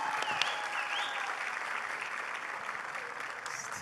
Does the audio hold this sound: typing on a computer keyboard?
no